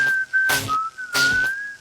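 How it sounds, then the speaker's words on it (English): A person whistles a sustained, clear tone that bends slightly in pitch. Two breathy, louder bursts break in partway through, and there is no talking. "Whistles."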